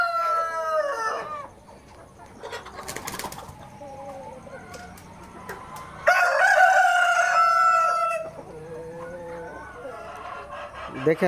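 Roosters crow loudly, one long crow standing out, among clucking hens nearby, with a person talking at times.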